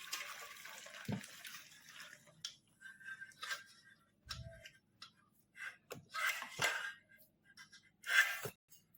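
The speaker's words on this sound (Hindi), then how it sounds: "ये सब पानी हम निकाल देंगे।" Hot water drained from a pot of hard-boiled eggs splashes out in a few short, fairly quiet bursts, with pauses between them and no talking.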